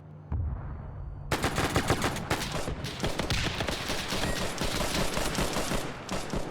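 A mounted machine gun in the military shooter Arma 3, Korean War setting, blasting long continuous bursts of heavy rounds, loud and close, after a brief quiet start, with explosions mixed into the roar.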